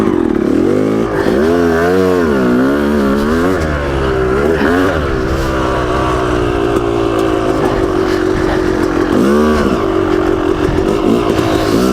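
A 1998 Yamaha YZ250 two-stroke dirt bike engine runs loud and close, revving up and down in rising and falling waves with a buzzing, raspy exhaust note throughout.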